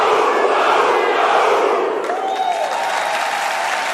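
A crowd cheers and applauds at the World Cup of Pool 2023 final between the Philippines and Germany, a loud continuous roar of shouts and clapping that eases slightly midway, with a faint whistle.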